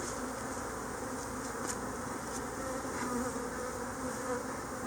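Agitated honeybees swarm around an opened hive as frames are brushed off, a dense, continuous buzz holding steady and close for several seconds with no talk.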